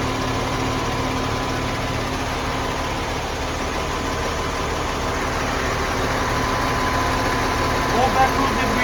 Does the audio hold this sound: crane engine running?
yes